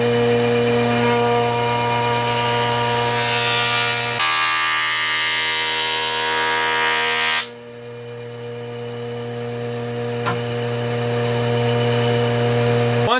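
A jointer cuts a cupped oak board with a loud steady motor whine and a rougher cutting roar for several seconds, then the blade spins on alone with a constant hum.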